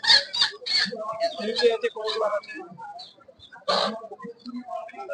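Live chickens cluck and squawk in quick bursts at a busy village poultry market. Voices of people talking mix in with the birds.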